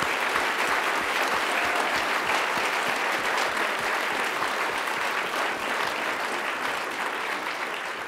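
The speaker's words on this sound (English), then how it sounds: "let's just have a round of applause for the authors." An audience at a literary awards ceremony claps for the authors, a dense, sustained applause of many hands with a steady patter that holds level and tapers slightly toward the end, with no voices over it.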